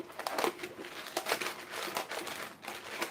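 Paper being cut and crinkled into a circle for baking, a soft stream of scissor snips and rustling crackles, close and fairly quiet with no talk.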